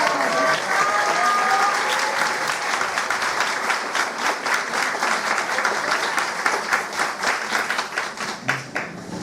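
An indoor audience at an inaugural institute lecture applauds with dense, steady clapping that gradually thins toward the end, with a faint voice near the close.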